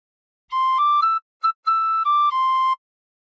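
Tin whistle sounding a short phrase of the Battle Hymn of the Republic: a handful of clear, pure sustained notes, one brief stabbed note in the middle, played alone and close.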